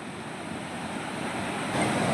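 A waterfall at the edge of a cliff above a gorge gives a continuous broad roar, steady and full, with a slight swell near the end.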